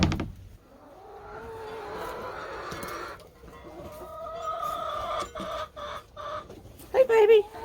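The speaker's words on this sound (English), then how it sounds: "I got nosy hens. They want to see what I'm doing." Hens cluck softly and intermittently near a nest box, with a few louder squawks toward the end; a person speaks quietly in between.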